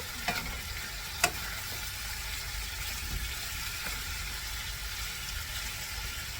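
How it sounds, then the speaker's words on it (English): Chicken pieces sauteing in a wide pan for creamy chicken rigatoni, giving a soft, steady sizzle with a few faint clicks and taps of a utensil, quiet and even, with no talk. "And I will let them saute for about 2 minutes on this side."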